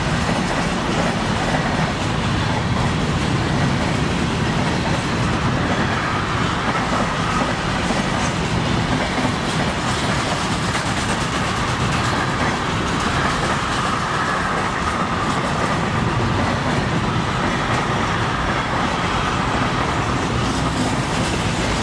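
A long container freight train with extra-long 80-foot container flat wagons rolls past on the old main line between Sterbfritz and Jossa, giving a loud, close, steady rumble with wheel clatter that continues throughout, with no voices.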